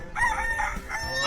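A rooster crows once, loud and close, a short drawn-out call with no talking over it.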